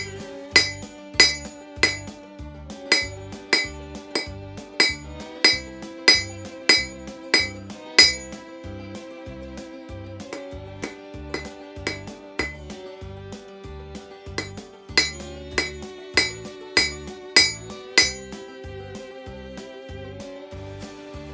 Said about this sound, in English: you're going to flip it over and start hammering that tip back towards